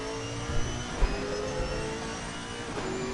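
A Chevrolet race car engine drones through a sim racing game at Misano, a steady mid-pitched tone with faint shifts and small bumps, moderately loud and continuous with no talk.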